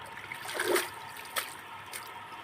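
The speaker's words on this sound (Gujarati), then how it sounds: "પાણી નીતરવા દેવું પડશે" Water drips and trickles quietly from freshly washed amaranth leaves as they drain, a soft, steady flow with a few faint splashes.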